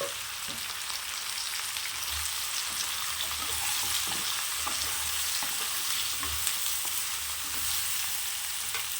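Sweet pumpkin pieces with turmeric powder being stirred and mixed in a pan give a continuous, close sizzle with irregular soft scraping and stirring knocks throughout.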